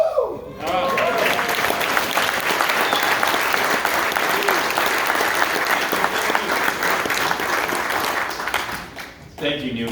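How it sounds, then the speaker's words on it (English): A large audience breaks into loud, sustained applause that fills several seconds, with a voice briefly heard at the start and as it fades. "one more round of applause for Neil."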